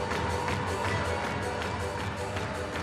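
A capacity crowd of about 5,500 spectators at a women's ice hockey world championship final, Germany against the Netherlands, fills the arena with a steady, dense roar of cheering and clapping that stays loud throughout.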